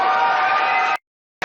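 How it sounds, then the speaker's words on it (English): Loud applause and cheering roll through a Republican debate audience in New Hampshire, cut off abruptly and then resuming. "The applause so loud here."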